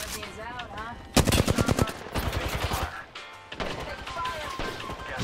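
Rapid automatic gunfire in a first-person shooter video game, loud bursts of close shots with sharp impacts, heard under and between a player's voice chat.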